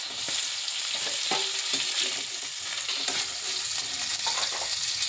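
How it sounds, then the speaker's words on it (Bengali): Koi fish frying in oil, a continuous loud sizzle with scattered spatter crackles and occasional stirring knocks throughout. "ভাজা প্রায় হয়ে এলো, এখন মাছ নামিয়ে নিব"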